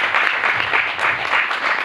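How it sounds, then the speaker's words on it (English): Audience clapping at a fundraising talk, a steady wash of many hands for about two seconds, fairly loud and with no voices over it. "That requires claps."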